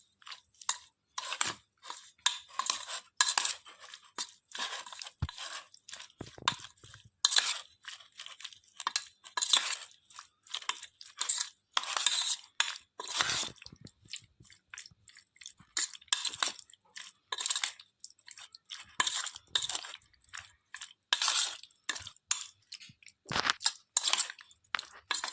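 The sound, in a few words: mixing prawns with chilli powder masala in a bowl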